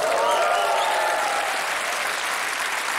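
A German TV studio audience applauds and cheers loudly and steadily, with a few whistles rising over the dense clapping near the start before the ovation settles into an even roar.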